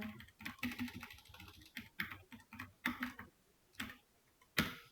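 C code is typed on a computer keyboard in short bursts of quick, soft key clicks, close by but faint, with a single louder keystroke at the end and no talk.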